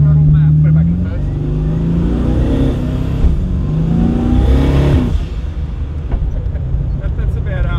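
A modified seven-second street car accelerates hard at full throttle. Its engine note climbs in rising sweeps that are loud and close, with voices in the cabin.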